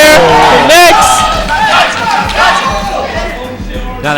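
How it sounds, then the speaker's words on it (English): Excited crowd at a Super Smash Bros tournament shouts and cheers loudly, with yells and whoops rising over a dense roar of voices throughout. "Now the crowd is very excited right now."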